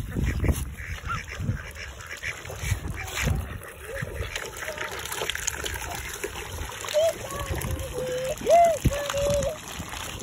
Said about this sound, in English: Look at all the ducks, guys.